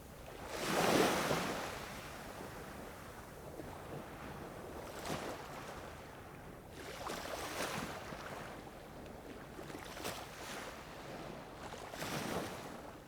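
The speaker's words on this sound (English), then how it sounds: "you have the movement of the waves, in front of the microphone" Waves break gently on a calm beach at Moesgaard Strand near Aarhus, soft surf washing in at a slow rhythm, faint and steady with occasional louder swells.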